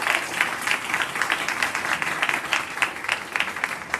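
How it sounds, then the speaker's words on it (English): Steady audience applause at a 2025 senior awards ceremony, a continuous even patter of many hands clapping at moderate distance, with no voices over it. "So let's give a clap for that."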